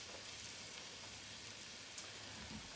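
Garlic and onion cooking on low heat in a pan, a soft steady sizzle and faint crackle close by, quiet and unbroken.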